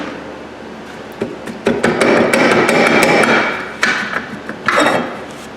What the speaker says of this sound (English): Probably have to give them a little whack,